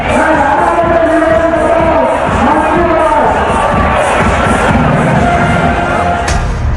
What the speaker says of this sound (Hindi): हजारों हिंदुओं की भीड़ रामनवमी की शोभा यात्रा में शामिल है।